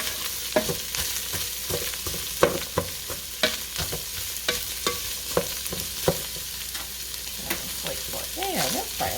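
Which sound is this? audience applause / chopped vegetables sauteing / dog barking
chopped vegetables sauteing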